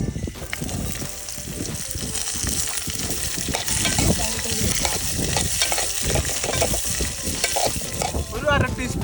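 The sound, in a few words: sautéing chopped beans and onion with green chili, curry leaves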